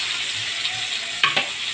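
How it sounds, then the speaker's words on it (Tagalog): Garlic and onion sauté in a hot pan with a steady, close sizzle; two quick stirs scrape through near the end. "Lagay ang bawang sibuyas."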